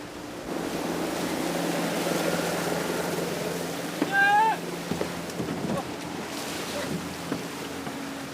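A motorised pirogue, a dugout canoe, runs on a river in French Guiana during elite-unit training, with a steady low engine drone and a few brief sharper sounds partway through.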